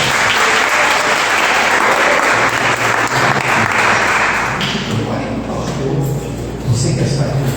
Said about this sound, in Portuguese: Você pode dar uma salva de palmas com a gente?